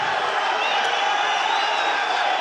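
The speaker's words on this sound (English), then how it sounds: "The crowd going crazy here for this amazing bout between these two men." An arena crowd roars in a dense, steady wall of cheering at a Yan vs Magomedov fight, loud and sustained without a break.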